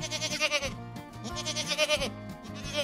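Goats bleat nearby, giving several loud, quavering, nasal cries one after another with brief breaths in between.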